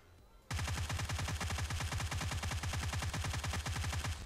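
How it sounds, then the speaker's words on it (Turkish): A UMP submachine gun in PUBG Mobile fires a long, loud automatic burst of rapid, evenly spaced shots lasting nearly four seconds. "Buradan arkadaşlar otomatikte sprey atmaya çalıştım."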